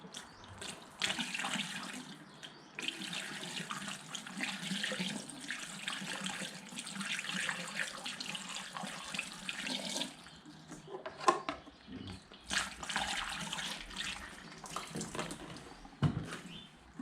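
Coolant is poured into a 2015–2016 Kawasaki Vulcan 650 motorcycle, a soft liquid trickle in several separate pours broken by short pauses, close and fairly quiet.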